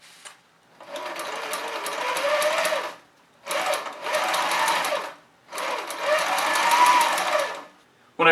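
Sewing machine stitching a toiletry bag made of 500 denier Cordura, three sustained runs of whirring stitching separated by short pauses, close and fairly loud with no talk.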